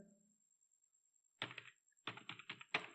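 Keys clatter on a computer keyboard as a command is typed, in three short quick bursts of close, crisp clicks separated by brief pauses in a quiet room.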